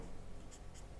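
Someone writes an answer to a class 10 statistics math problem; two brief, faint scratching strokes sit under a steady background hiss.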